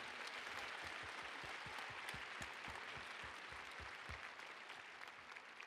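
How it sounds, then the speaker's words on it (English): Audience applause at a BOM Summit 2016 conference session, a sustained round of clapping from a large crowd that holds steady, then begins to thin toward the end. "Round of applause for Brent."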